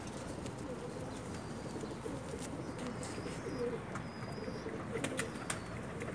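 A pair of Pakistani pigeons coo softly in a loft, with low, steady murmuring calls that run on without a break. Occasional wing rustles and a faint background hum sit underneath.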